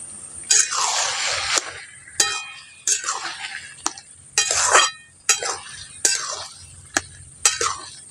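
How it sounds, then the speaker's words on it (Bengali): Taro stems being stirred and fried in a pan with salt and turmeric, sounding as repeated scraping clinks of a spatula against the pan in irregular bursts, close and fairly loud, with a soft sizzle between strokes and no talking. "এটাকে কিন্তু বেশ কিছুক্ষণ ধরে নাড়াচাড়া করে একটু শুকনো শুকনো করে নিতে হবে এটা ভাজা হতে হতে"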